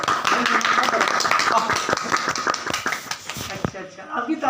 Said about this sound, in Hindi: अच्छा अभी ताली बजाया